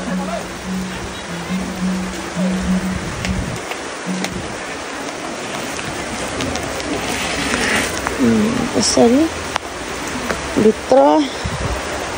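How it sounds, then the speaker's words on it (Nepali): Steady heavy rain pours down in a dense hiss, with a person talking and some birdlike chirps over it. "यस्तो धेरै पानी परिरहेछ"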